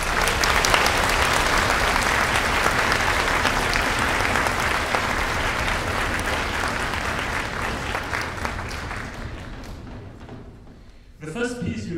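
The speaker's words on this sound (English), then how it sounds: "Let's give a round of applause to our soloists from the first half of the game." Sustained applause from a concert audience at a youth orchestra performance, dense and steady for about ten seconds before thinning out, with a few voices and thumps near the end.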